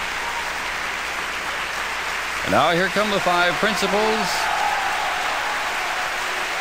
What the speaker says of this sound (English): being applauded backstage, as well as in the house